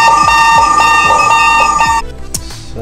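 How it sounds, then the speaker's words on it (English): A new GotWay M Super Pro electric unicycle sounds its speed alarm at cutoff speed, a loud, rapid series of piercing electronic beeps that stops abruptly after about two seconds, leaving a quieter rush of wind and road noise. "Now let's see at what speed it's gonna start beeping so we can see what's the top speed."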